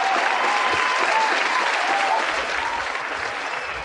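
Dense crowd applause rolls on steadily, many hands clapping together at an even, full level that eases slightly toward the close.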